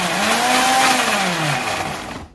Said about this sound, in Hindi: अब हम इसको थोड़ा सा ब्लेंड करेंगे, अदरक को पहले ब्लेंड कर लेंगे